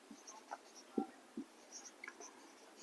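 Pen or pencil writing out given values for a maths exercise, quiet short scratchy strokes at irregular intervals in a still room, no talking.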